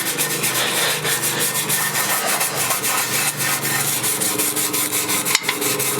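A grill cleaning brush scrubs hard and continuously over a metal trailer tongue jack on a Geo Pro 19FBS, a steady close rasping rub with a brief sharp knock near the end.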